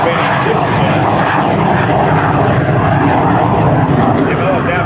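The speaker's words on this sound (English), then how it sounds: "Dale Snodgrass taking off with the F-86 jet." An F-86 jet takes off at the 2005 Andrews AFB airshow with a loud, continuous engine roar, while an announcer talks over it.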